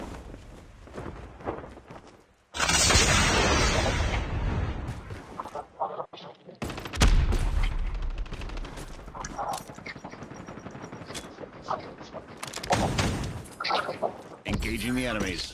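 Gunfire in the mobile shooter Call of Duty Mobile, loud sustained bursts of automatic fire starting a few seconds in and recurring throughout, mixed with game sounds and some voice.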